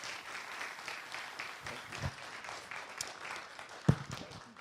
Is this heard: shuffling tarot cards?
no